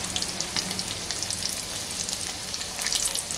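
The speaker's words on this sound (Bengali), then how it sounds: "চার সাইড ঘুরিয়ে ঘুরিয়ে সমান ব্রাউন করে আমি এগুলোকে ভেজে তুলে নেব।" Egg fingers deep-fry in oil, turned to brown evenly, giving a fairly quiet, steady bubbling sizzle with light crackles.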